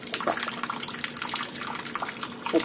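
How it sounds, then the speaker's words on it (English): Water runs from a tap into a small pool for a bird's bath, a soft continuous splashing and trickle with a few brief drips, quiet and close. "Makes more water noises."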